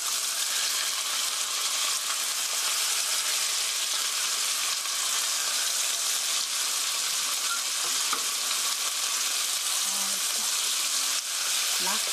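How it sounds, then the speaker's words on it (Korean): Chicken stir-frying in a pan, destined for a cabbage stir-fry, producing a loud, dense, continuous sizzle that holds steady throughout, with faint stirring scrapes underneath. "이렇게 해서 고기가 하얗게 될 때까지 볶아주세요."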